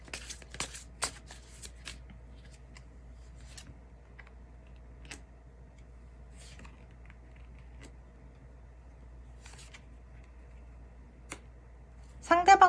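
Tarot cards are shuffled for a reading, with soft scattered flicks and riffles throughout and a louder burst of shuffling near the end.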